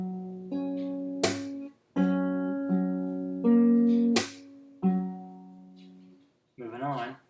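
Fingerstyle acoustic guitar plays a slow riff of ringing open and fretted notes, broken by two sharp percussive slaps on the bass strings. The notes sound close and clear, ending in a brief wavering strum.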